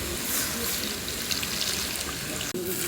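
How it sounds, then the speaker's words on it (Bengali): Water pours steadily into a cooking pot in a home kitchen, a close, continuous rushing splash lasting a few seconds with one brief break near the end. "এবার জল দিয়ে দেবো।"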